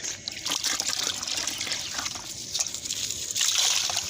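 Water flows from a motor pump so animals can drink: a continuous splashing, trickling stream that swells slightly toward the end, with faint background noise.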